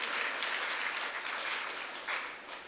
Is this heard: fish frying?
no